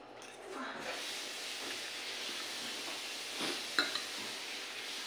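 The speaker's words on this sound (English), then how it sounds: "I cook the rice again and I put spring onion and egg" Rice being fried again with spring onion and egg, making a steady hissing sizzle with soft stirring and a couple of sharp utensil taps near the end.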